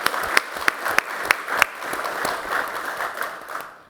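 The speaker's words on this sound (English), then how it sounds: "could we just have a round of applause for Robbie Loff?" An audience bursts into applause at a defense forum, a dense wash of clapping with a few sharp loud claps early on, sustained for several seconds before tapering off.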